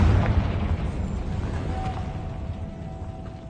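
A Confringo explosion spell in Hogwarts Legacy, a loud booming burst at the start that rumbles and fades away over a few seconds with a faint tonal hum beneath.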